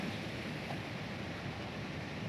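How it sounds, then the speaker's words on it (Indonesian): Surf washes steadily onto a wide white-sand beach on the west coast, late in the afternoon. The roar is continuous and even, with wind mixed in and no voices. "Kita berada di pantai sebelah barat, pantai"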